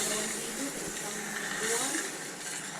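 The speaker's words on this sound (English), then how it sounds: "Pouring some hot water in there." Hot water poured into a hot pan of venison brown gravy, a steady broad steaming hiss that swells and eases slightly, fairly close with no other sounds over it.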